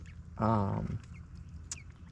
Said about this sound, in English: you can see the chickens there trying out the water